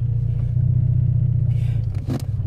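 A car engine idles with a low, steady rumble right after being restarted during a check of a car that stalls when shifted into reverse, with a brief mechanical clunk near the end.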